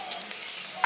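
A bay leaf and whole cumin seeds hit hot white oil in a pan, giving a brief, soft sizzle with light crackling.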